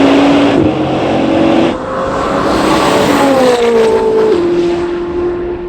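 A Bugatti Divo and a Koenigsegg Jesko roar through a drag race, one loud continuous engine drone rising in pitch through gear changes with no break, alone and close.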